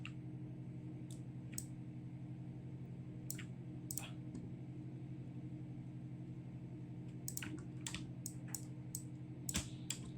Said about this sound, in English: let's press escape on my keyboard